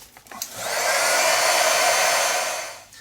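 Hair dryer drying a mixed-media artwork, switching on after a few handling sounds and blowing a steady, close, whooshing roar for about two seconds before winding down, with no talking.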